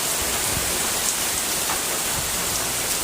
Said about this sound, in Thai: คืนนี้ก็ ขอ นอนพักผ่อนฟังเสียงฝนตกไปด้วยกันนะครับ